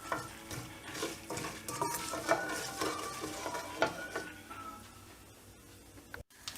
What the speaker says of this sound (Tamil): இது லைட்டாக ஃப்ரை பண்ணிடணும்